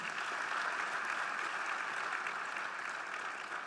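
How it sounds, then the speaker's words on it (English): A church congregation claps along during a sermon, a dense, steady wash of applause from many hands that holds at full strength for several seconds. "Clap hands for Jesus."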